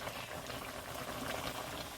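Curry turkey boiling in a pot, a soft steady bubbling and simmering hiss, faint and continuous with no talking.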